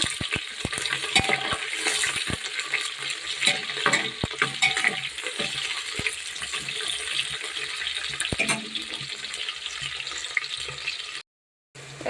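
Chopped onion frying in hot oil with bay leaves and cumin seeds in a home Bengali kitchen, a dense continuous sizzle with scattered stirring clicks and scrapes, no voices.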